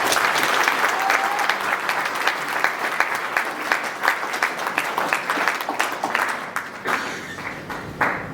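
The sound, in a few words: applause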